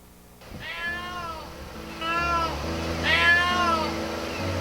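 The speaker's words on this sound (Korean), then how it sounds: "그 어미 고양이 울음소리" A mother cat meows repeatedly in long, drawn-out wails, several calls in a row at moderate distance over a low background hum.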